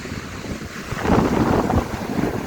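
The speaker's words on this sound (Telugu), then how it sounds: "అసలు నాన్ స్టాప్గా ఇట్లా అలలు వస్తూనే ఉంటాయి" Indian Ocean waves keep rolling in and breaking on the shore at Dhanushkodi near Rameswaram. The surf is a continuous churning wash, mixed with wind buffeting the microphone.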